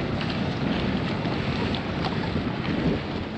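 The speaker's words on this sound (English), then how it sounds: "The wind is a little chilly, I have to admit." Wind roars and buffets against the microphone of a jet ski racing along the Niagara River, a constant loud rush mixed with low engine and water noise, with no talking.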